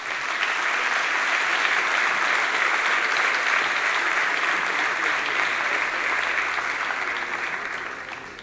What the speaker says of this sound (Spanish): por favor, un fuerte aplauso para ellos